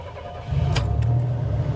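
A Buick's engine cranks and catches, a brief starter whir followed by a steady low idle rumble that settles in smoothly, heard close with no talking.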